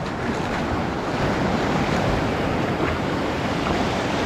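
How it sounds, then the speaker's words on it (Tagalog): Loud, constant roar of strong ocean surf with heavy wind rumbling against the microphone, no pauses or talking. "Yung lakas ng bugso ng dagat."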